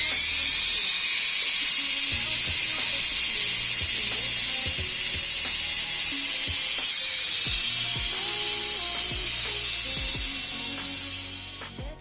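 Tamiya Canonball mini 4WD kit car motor running on a Fujitsu battery, a loud, steady high-pitched whine with gear rattle that continues without a break and fades slightly at the end.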